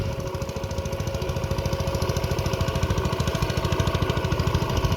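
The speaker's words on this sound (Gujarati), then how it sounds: "એટલે આ નાનું ટ્રેક્ટર મગાવ્યું. તો કેવું મસ્તીનું હાલે છે" A small tractor engine runs in a chili field with a steady, fast, rhythmic chugging that stays constant throughout. It is close and fairly loud, with no voices.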